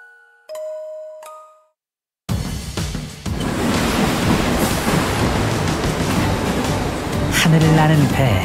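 After a brief chime of bell-like tones and a moment of silence, a train in the fighting game DNF Duel rumbles and clatters across the sea in a loud, continuous roar, with a voice near the end.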